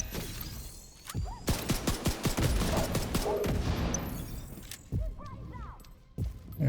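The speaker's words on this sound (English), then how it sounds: "I'm gonna use a little bit of my pistol because I don't have much ammo left." Gunfire in a video game, with pistol shots among a dense fusillade of sharp, rapid cracks over several seconds that give way to a few scattered single shots, with talk partly over it.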